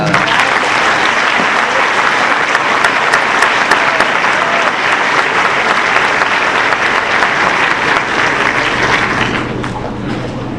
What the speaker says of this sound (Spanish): Por favor, todos un aplauso.